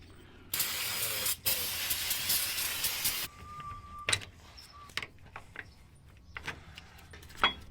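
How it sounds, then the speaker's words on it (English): WD-40 sprays onto seized brake parts in one continuous close hissing burst of about three seconds, with a brief pause partway. Scattered clicks and light clatter follow. "you're going to want to probably put some WD-40, which I'll do right now"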